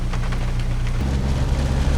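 Steady broadband wash of heavy rain pouring outdoors, continuous and fairly loud with a low rumble underneath, no voices.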